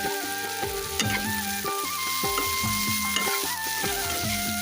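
Sliced onions fry with a little sugar in a pan for ilish polao, crackling and sizzling steadily with rhythmic stirring scrapes throughout, close and alone.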